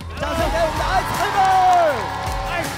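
Studio audience at a Chinese variety talent show cheering and whooping as a contestant is called to a seat, with warbling shouts rising over a steady crowd murmur.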